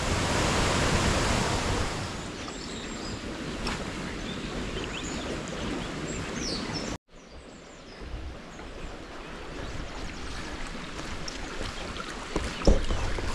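Steady broadband rush of the Guadiaro River flowing near its source, loud and continuous, with a brief cut midway and a faint knock near the end.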